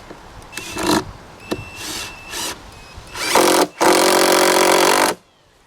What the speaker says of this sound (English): I only recently discovered the joys of the impact drill